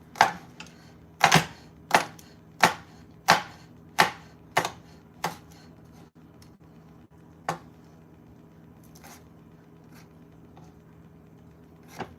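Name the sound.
knife chopping and mincing garlic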